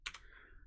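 A couple of quick key clicks on a computer keyboard, faint and close, followed by a short trailing ring.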